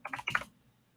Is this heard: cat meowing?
no